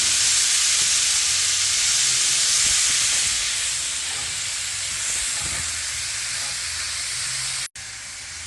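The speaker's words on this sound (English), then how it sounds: "when the meat is about halfway brown, I'm going to go ahead on and add my onion" Meat and onion browning in a pan while being smoked Boston butt barbecue is prepared, giving a steady, loud broadband sizzle and hiss that runs continuously, easing slightly toward the end before a brief cut.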